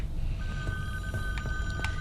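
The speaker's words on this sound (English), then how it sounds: "Shut up, you damn phone." Inside the Friday the 13th video game's virtual cabin, a telephone rings in short repeated electronic bursts, moderately quiet beneath a low background hum.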